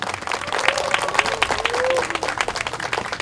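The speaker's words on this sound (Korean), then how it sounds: "다시 한번 큰 박수 보내주십시오." Dense, enthusiastic applause from a large outdoor audience at a Friday night rally in Yeouido, Seoul, steady clapping with a few voices rising above it.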